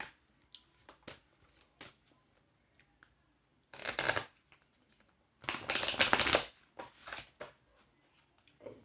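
A deck of tarot cards is shuffled in two close, rustling bursts, a short one and then a longer riffle, separated by scattered light taps and handling sounds in a quiet room.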